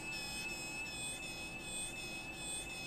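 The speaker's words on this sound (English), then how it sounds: "that sound is the blade going up and down, up and down" A Lil Nipper electric nail clipper runs with its blade moving up and down, a steady faint whirring hum with a thin high whine, close and continuous with no talking.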